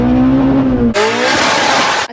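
A K-swapped Mazda Miata race car accelerates hard at a drag event, its engine revving loudly through a rising pitch, then shifting gear with a sharp jump and pulling away before cutting off.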